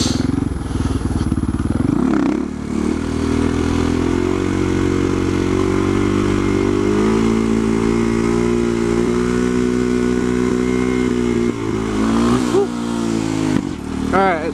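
SM610 motorcycle engine held at steady revs during slow wheelie practice, a loud continuous close drone with slight pitch wavering and a blip of throttle change near the start and end.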